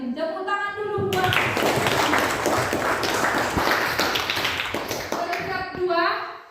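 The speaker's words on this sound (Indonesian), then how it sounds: "Tepuk tangan dulu buat." A school class claps for top-ranked students, a loud, dense burst of hands lasting several seconds, with a voice heard briefly just before and after.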